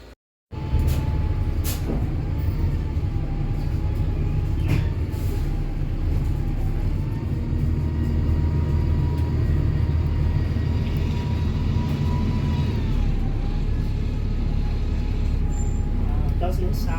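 Interior drone of a moving New Flyer LF52 bus: a loud, steady low engine rumble with rattles and clunks, a whining tone that rises and falls, and people talking over it.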